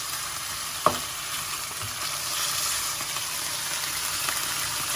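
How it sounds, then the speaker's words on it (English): Chopped pork pieces frying in moderately hot oil for a Thai stir-fry, a steady close hiss and sizzle throughout, with one brief knock of a utensil early on. "It's not very hot, the oil, but hot enough to not give it time to soak up too much and to cook through"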